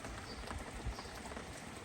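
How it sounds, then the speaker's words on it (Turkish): Rain runs off the eaves of a house in a village, a steady dense wash of water and patter, moderate rather than heavy, continuous with no voices. "saçaklardan yağmur akıyor ama çok şiddetli değil"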